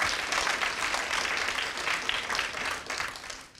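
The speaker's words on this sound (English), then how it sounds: "They deserve a round of applause if we can thank them very" An audience at an evening speaker event applauds the event staff, a broad, steady wash of many hands clapping that holds loud and even before easing slightly at the end.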